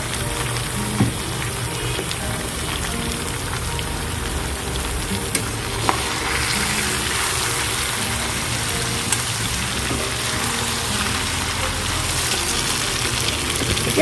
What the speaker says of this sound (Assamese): ইয়াতে মই এতিয়া কাটি ৰখা কচুখিনি দি দিম।